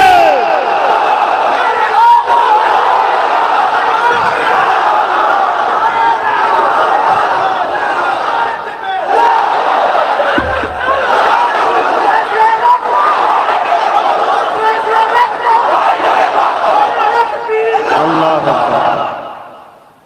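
A large crowd at a religious gathering roars back in unison, loud and sustained for about twenty seconds, a dense mass of shouting voices with brief dips before fading at the end.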